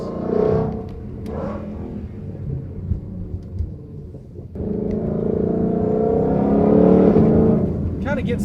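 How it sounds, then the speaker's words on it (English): A 2020+ Ford Mustang Shelby GT500 with a supercharger and an MBRP X-pipe exhaust downshifting on a street: a loud, deep engine note drops away and then surges back up into a sustained, heavy roar, with a voice over it near the start. "Listen to the downshifts."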